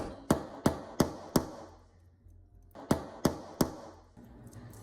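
A hammer taps a pin on a watch bracelet clasp: sharp metallic taps in two bursts, four strikes, a brief pause, then four more, evenly spaced and close by with short ringing decay.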